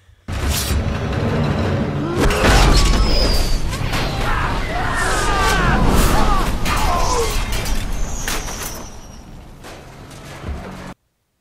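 A booming, rumbling explosion from the film The Wolverine (2013), with crashing debris and whooshing effects, fills the track, sustained and loud before tapering off.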